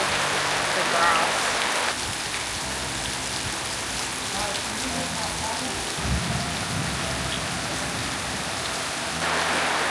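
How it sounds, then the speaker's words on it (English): Heavy rain pours steadily in Amed as a dense hiss, flooding a backyard, with a low rumble like distant thunder partway through during a lightning storm. "it's really raining out and the backyard's kind of flooding"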